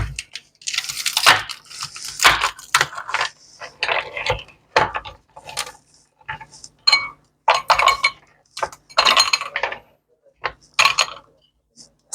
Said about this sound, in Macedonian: Додадете неколку коцки мраз.